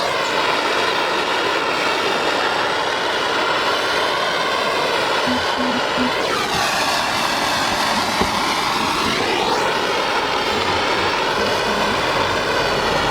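A propane torch flame plays over faded plastic, a loud, steady roaring hiss that runs unbroken throughout with no speech.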